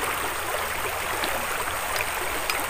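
A river at night rushes in a steady, broad wash of flowing water, unbroken and fairly loud, with no voices over it.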